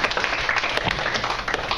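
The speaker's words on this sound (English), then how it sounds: "Let's give her a round of applause." A classroom group gives a student a round of applause, producing dense, steady clapping from many hands close by throughout the short moment.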